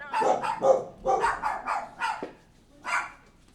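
A dog barks repeatedly at close range, a string of sharp woofs with a rough growling edge, coming in short clusters then a final single bark.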